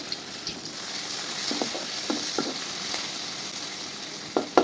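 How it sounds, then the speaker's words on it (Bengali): Chopped onion fries in hot oil in a pan, a steady close sizzle with scattered louder crackles and pops, no talk. "এবার পেঁয়াজ কুচিটা দিয়ে নিচ্ছি"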